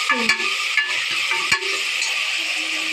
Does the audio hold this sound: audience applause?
no